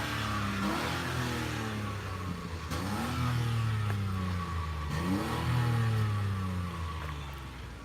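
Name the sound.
Honda Insight ZE1 three-cylinder engine revving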